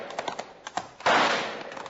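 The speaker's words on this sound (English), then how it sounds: "I'll try my rifle." Rifle shots in a 1951 western: a few sharp crackling pops in quick succession, then a louder blast that fades over a second, with no talking.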